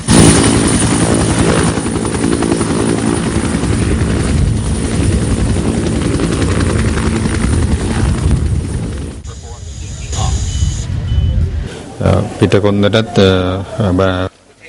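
A Bell 212 helicopter belonging to the Air Force gives off a loud, steady rotor roar close by that drops away partway through, and people talk after it fades.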